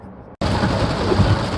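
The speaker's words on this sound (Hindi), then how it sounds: "बारिश इतनी जबरदस्त है, वाइपर जैसा फुल स्पीड में चल रहा है" Heavy rain pounds a car driving on the KMP Expressway in India, a dense, steady roar of water on the body and glass that bursts in abruptly after a brief quiet moment and stays loud throughout.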